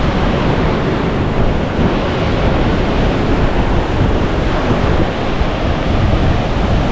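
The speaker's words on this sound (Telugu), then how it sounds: "అలలు వచ్చి రోడ్డు మీద కొడతా ఉన్నాయి" Ocean surf pounds against a coastal road near Reis Magos Fort in Nerul, Goa, during the monsoon. The roar is loud, dense and steady, mixed with wind, and no one speaks.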